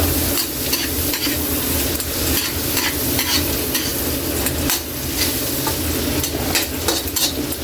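Garlic and onion sauté in melted butter in a pan for a squid dish, a loud continuous sizzle with steady stirring and scraping close up, no voices.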